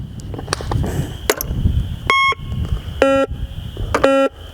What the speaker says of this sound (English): run a metal detector over and around your log